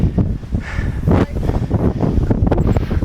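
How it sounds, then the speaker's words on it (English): Strong wind buffets the microphone on a narrow hiking path, a continuous loud low rumble with gusts rising and falling throughout, no voices heard. "Getting very windy too."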